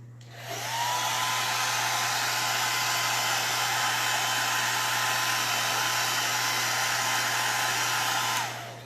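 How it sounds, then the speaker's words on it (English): A hair dryer blows steadily on a decoupage project, a loud, close, even whoosh with a constant motor hum that switches on just after the start and cuts off near the end, with no voices. "Now let's blow dry it."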